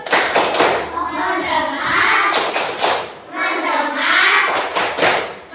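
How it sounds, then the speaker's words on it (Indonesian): Young schoolchildren repeating the 'tepuk fokus' clap routine, two clusters of crisp rhythmic hand claps separated by stretches of chanted group voices, close and loud. "Sekali lagi ya, tepuk fokus."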